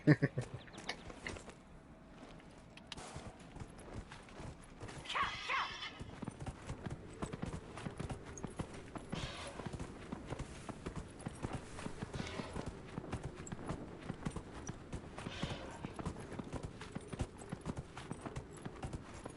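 Horse hooves in the video game Dragon Age Inquisition: a steady, fairly quiet rhythmic clip-clop of a trotting horse that runs throughout, with a brief whinny-like sound partway through and no speech.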